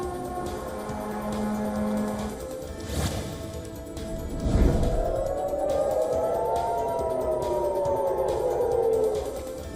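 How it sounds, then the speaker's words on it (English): Air raid sirens blare across Tel Aviv, a rising and falling wail with steady tones that sweep upward midway, heard against a continuous broad noise bed with a brief thump partway through. "Sirens blared in Tel Aviv as smoke trails were seen in the sky"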